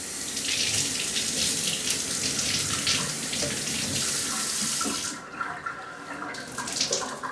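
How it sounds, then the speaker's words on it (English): Water runs from a tap onto a sponge, a loud steady gushing stream close by that thins and becomes more splashy near the end. "All you have to do is get your sponge wet."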